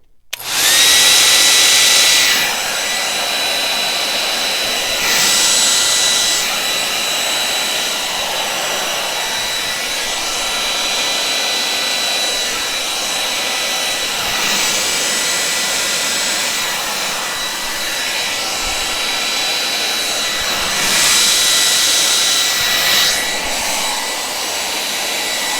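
A hair dryer blows loudly and steadily across wet fluid acrylic paint in a Dutch pour, a continuous airy roar that swells in several louder surges as the airflow shifts.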